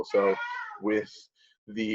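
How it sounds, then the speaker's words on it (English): A pet cat meows at home, heard close by in brief bursts between and under a man's speech. "that's my cat"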